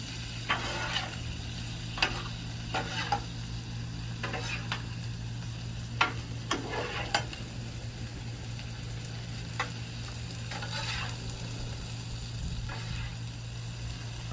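Pork tenderloin stirred on a Blackstone griddle, with a steady sizzle under a constant low hum and a run of scraping spatula strokes in irregular bursts, fairly close and with no talking.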